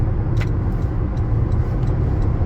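A Toyota Prius Prime drives in rush-hour traffic on the I-10 highway, heard from inside as a steady loud low road rumble and engine hum, with no talk.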